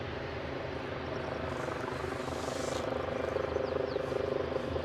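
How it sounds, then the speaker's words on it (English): A helicopter approaches an airport runway, its steady distant rotor drone humming continuously at low level beneath a wash of outdoor ambience. "Sounds like they have a helicopter on the way in as well."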